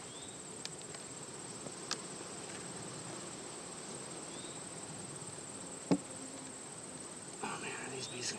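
Honeybees buzz around beehives being requeened in late summer, a steady faint droning hum close by with occasional soft clicks and knocks of hive equipment and a quiet voice in places.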